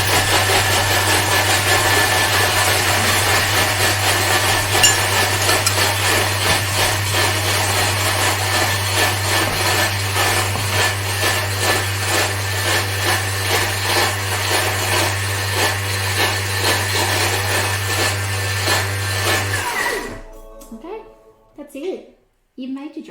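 A Thermomix blends salad dressing at speed 8 for about 20 seconds, a loud steady motor whir with a low hum and churning liquid under ongoing talk, stopping abruptly near the end.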